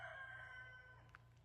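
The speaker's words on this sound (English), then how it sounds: "that's our rooster" A rooster on a sandy hillside homestead crows once, a brief, faint, distant call with a tonal wavering quality over low background noise.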